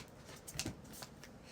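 A deck of alchemy cards being shuffled, a quick soft riffle of card flicks lasting about a second, faint and close.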